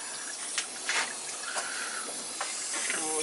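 Water hissing and spraying out of a high vent as a gas boiler system fills, a faint steady rush with small intermittent spurts and gurgles.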